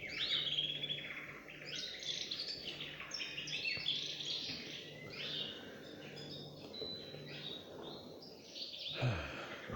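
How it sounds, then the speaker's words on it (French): Birds chirp and sing in a busy, overlapping chorus, bright repeated calls continuing steadily against a low background hum. "à entendre des oiseaux chanter"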